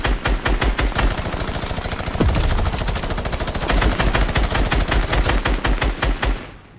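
Rapid automatic gunfire from players shooting in the Fortnite video game rattles steadily throughout, a dense burst of shots with a brief louder impact partway through.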